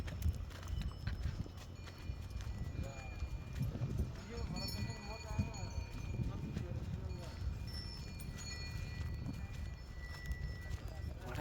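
Steady clip-clop of horse hooves walking along a mountain trail in Mustang, Nepal, rhythmic and close, with people talking over it throughout.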